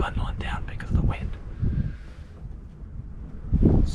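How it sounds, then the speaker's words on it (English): Strong, cold wind buffeting the microphone during a deer hunt in South Texas, low rumbling gusts rising and falling around someone speaking quietly. "and it's windy as hell"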